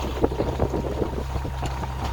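Steady wind rushes and buffets around a sailboat making about six knots in roughly ten knots of breeze on the Mediterranean, a continuous close rumble with light water wash and no talk.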